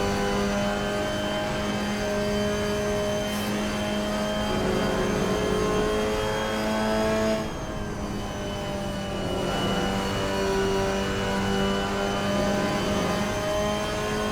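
Mazda MX-5 race car engine in Assetto Corsa at Watkins Glen, a steady close-up drone that rises and falls through gear changes, revving hard with brief shifts and no talk over it.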